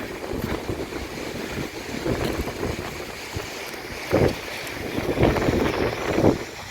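Storm wind gusts hard and steady, mixed with rain and hail beating down, with rough buffeting on the microphone that swells in loud bursts.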